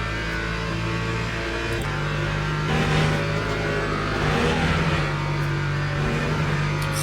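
BMW LMGT3 race car in the Le Mans Ultimate racing game, its engine droning loud and steady throughout with a strong low tone and brief rises in pitch as it revs under acceleration.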